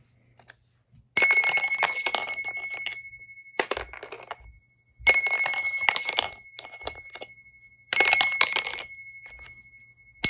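A small bell rings on a 2025 motorized set, sharp bright dings repeating in three or four bursts with mechanical rattling between and quiet gaps, close to the listener.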